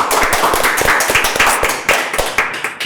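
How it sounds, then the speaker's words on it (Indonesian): Steady close clapping from a small audience at an Indonesian talk-show session with former Bujang Belitung Timur 2023 contestants, individual sharp claps forming an even rhythm for about three seconds without voices. "Boleh dikasih tepuk tangan tuh"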